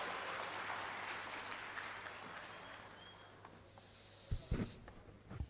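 An audience at an entrepreneurship run-up event at IIT Guwahati claps to welcome a speaker. Soft, steady applause comes from a distance and gradually fades, ending in a few scattered thumps.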